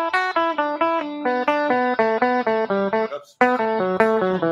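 Electric guitar playing a CAGED-method scale pattern in groupings of three, with quick, evenly spaced picked notes that step up and down in repeating runs, lightly distorted, with a brief break near the end.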